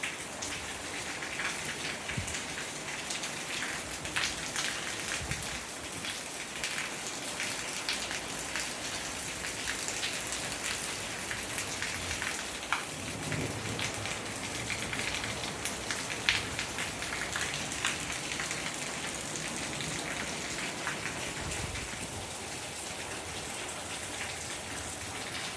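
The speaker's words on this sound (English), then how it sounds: "Maybe you can see the rain in the pool." Monsoon rain falls steadily in Tucson, pattering on a backyard pool and nearby surfaces as a constant, moderately faint hiss of drops with occasional louder splats and no voices.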